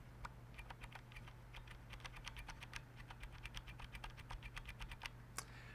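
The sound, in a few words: typing on Akko mechanical keyboard with scratchy brown switches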